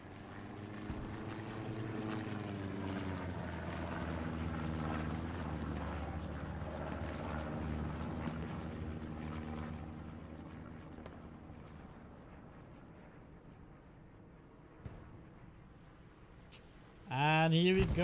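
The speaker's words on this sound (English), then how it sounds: "Silent airplane. PG60's airhead is coming down again." A propeller airplane engine in the World War II shooter game Hell Let Loose drones loudly and steadily for most of the stretch, then fades toward a quieter tail before a sudden louder burst at the end.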